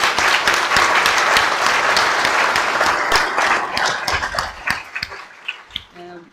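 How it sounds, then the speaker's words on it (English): An audience at a mining club young professionals event bursts into sustained applause, dense clapping that carries on loudly before thinning out into scattered claps near the end. "if we just have one more round of applause"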